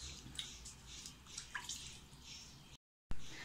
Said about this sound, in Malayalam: നമ്മൾ ഇതുപോലെ കൈയൊന്ന് വെള്ളത്തിന് മുക്കി കൊടുക്കുന്നു.